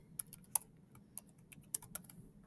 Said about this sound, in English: And you are just typing the letter E.